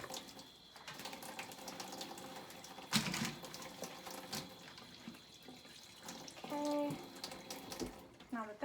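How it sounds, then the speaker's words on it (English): Running tap water pouring steadily as an item is rinsed under it, a continuous close splashing wash with a few brief clunks, nobody speaking. "so I'm just gonna rinse this off a little bit, give it a quick rinse"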